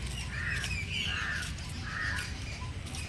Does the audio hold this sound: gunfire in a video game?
no